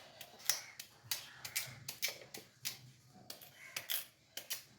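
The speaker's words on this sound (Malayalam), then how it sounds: "ഇങ്ങനെയാണ് നമ്മൾ ചീനി അരിയുന്നത്" Tapioca (cassava) being chopped with a knife, a series of sharp, irregular cuts and knocks up close, about a dozen in quick succession with brief pauses between them.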